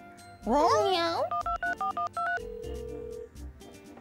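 A telephone number is dialed: a short sweeping electronic tone, then a rapid series of about six distinct keypad beeps, followed by a steady ringing tone, with a voice speaking at the start.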